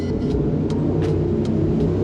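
Motorbike on a Saigon street during Tet, a steady low engine rumble with traffic noise, fairly close and continuous, no talking.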